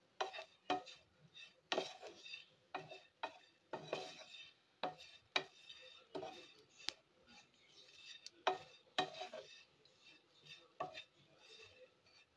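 Bitter gourd being stirred in a pan with roasted fennel powder and chaat masala: irregular close scrapes and clinks of a utensil against the cookware, fairly quiet, with no talking.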